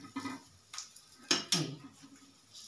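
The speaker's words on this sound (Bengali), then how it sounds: "এবার আমি এটাকে উঠিয়ে নিচ্ছি একটা চিমটের সাহায্যে" Kitchen tongs lift fried pieces out of a pan, giving a few light metallic clinks and taps that are faint and spaced apart.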